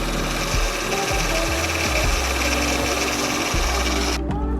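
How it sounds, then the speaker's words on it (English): Engine of a 2006 Acura MDX idling with a newly replaced alternator, a loud, close, continuous hum and whine with steady mechanical vibration throughout. "give you a look at the alternator working now"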